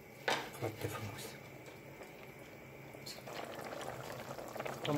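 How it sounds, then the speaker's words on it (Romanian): Garlic and bean dish boiling in a pot, a quiet, steady bubbling simmer with occasional louder pops and gurgles near the start, continuing without a break. "Și o lăsa să fiară."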